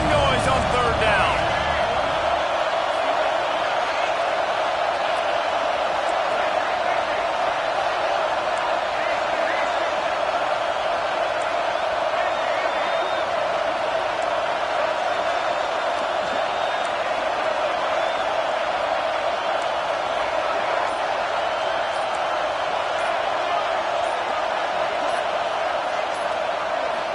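Video game crowd noise from an NCAA college football game, a loud, steady roar of a stadium crowd bringing noise on third down, sustained throughout with no break.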